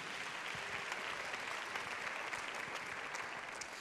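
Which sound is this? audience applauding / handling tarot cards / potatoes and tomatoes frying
audience applauding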